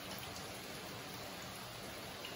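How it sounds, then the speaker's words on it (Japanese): Steady rain falls on Oki Island in Shimane, a continuous dense hiss that is quiet and even throughout, with no voices. "朝9時ぐらいから雨が降り出して、まあ、ほぼ止むこともなく"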